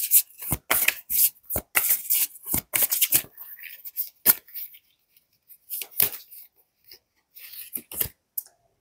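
Crystal oracle cards are shuffled by hand in quick, crisp riffling bursts with brief pauses between them, close and fairly quiet.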